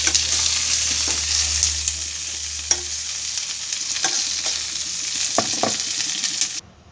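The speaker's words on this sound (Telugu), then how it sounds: "మిరపకాయలు వేగినాయి కదా, ఇలా తీసేసుకుంటాం." Dried red chillies fry in hot oil in a pan with continuous close sizzling, joined by a few sharp scrapes and clinks as they are stirred and lifted out, with no talking.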